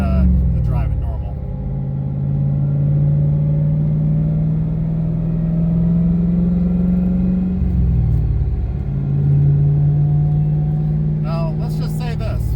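A manual-transmission car engine is held at about 3,000 RPM as a steady, loud mid-pitched drone that dips briefly and then climbs back to the same level.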